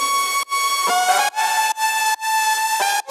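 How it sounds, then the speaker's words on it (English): A processed Serum synth lead pitched two octaves up gives a thin, bright whistling tone, phrased in short held notes separated by sharp rhythmic gaps, loud and alone. "but with all the processing and actually also manipulator for pitch processing, pitching it 2 octaves up."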